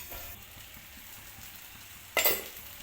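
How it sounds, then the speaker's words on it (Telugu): Stuffed brinjal fries in oil in a pan with a steady, soft sizzle, and near the end a sharp metallic clatter of a utensil on the pan. "నూనెలో ఎక్కువసేపు మగ్గనివ్వాలి"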